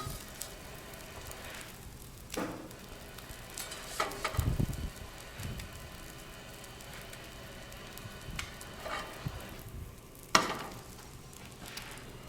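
Salmon cakes frying in a preheated flat pan give a quiet, steady sizzle with a few soft crackles and occasional light pops, with no talking.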